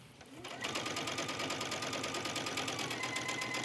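Close, steady whirring of a sewing machine top stitching along a fabric edge on a top's neckline, starting after a brief moment and running continuously with a fast, even needle rhythm.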